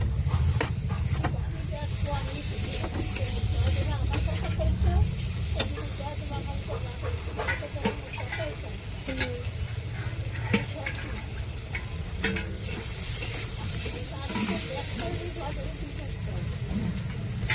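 Spice masala fries in a pan with a continuous crackling sizzle, punctuated by scraping and clicking from stirring, steady and close throughout.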